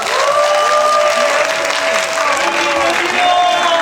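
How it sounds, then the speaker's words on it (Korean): Cinema audience at a Korean film's opening-week stage greeting applauds loudly and continuously for a few seconds, with a few voices calling out through the clapping. "다시 한번 뜨거운 박수 부탁드리겠습니다."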